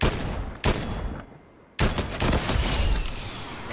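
Rocket launcher shots in Fortnite, loud close blasts with a sharp onset, a brief quieter gap, then another burst of fire and rumbling explosions filling the rest of the moment.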